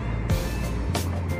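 Harapan Jaya bus pulling into Tamanan terminal in Kediri, a close, steady low engine rumble with brief bursts of air brake hiss, heard alone over terminal background.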